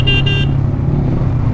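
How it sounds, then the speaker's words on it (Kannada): A vehicle horn blares on a mountain road during a KTM Adventure ride in Spiti, two loud close honks in quick succession over steady engine and road rumble. "Blow horn, I am warning."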